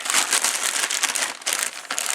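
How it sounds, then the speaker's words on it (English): A plastic bag from impact wrench packaging crinkles and rustles in quick, close bursts, handled briefly with no voices. "The plastic bag."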